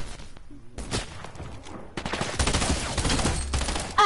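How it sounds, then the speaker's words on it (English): Gunfire in the video game Fortnite during a desert zone wars match, bursts of rapid shots starting and stopping, moderately loud, with brief game effects between volleys. "Ah, you shot me."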